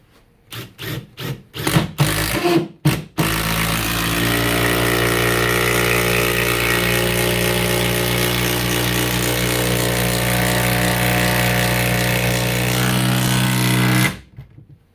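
Makita XDT15 subcompact cordless impact driver at full speed drives a 6-inch thick-shank structural screw through stacked pine boards: a few short bursts, then loud continuous rapid hammering for about ten seconds before stopping abruptly.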